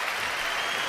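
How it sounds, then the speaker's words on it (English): Audience applause at a livestreamed talk, a steady dense wash of clapping from a crowd filling the moment without pause, close and even in level. "Let me give a round of applause."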